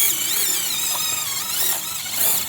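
A power drill spins a brush attachment against a twin-turbo diesel BMW engine block, a continuous high whine with scrubbing and squealing texture held at close range from start to finish, no voices.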